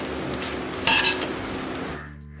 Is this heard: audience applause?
no